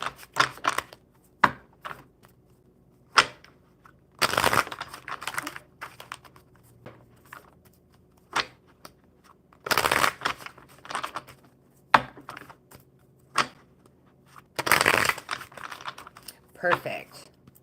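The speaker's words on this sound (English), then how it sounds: "I will shuffle while you are writing your question." Intermittent crisp riffling bursts of cards being shuffled, several short flurries spaced apart, close by, with faint talk and light tapping between them.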